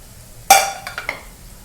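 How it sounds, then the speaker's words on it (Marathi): Short scraping and clinking of a spoon stirring young chickpea-leaf bhaji in a pan, one sharp stroke followed by a few lighter clinks, close and alone. "थोडी मिक्स करून घेते."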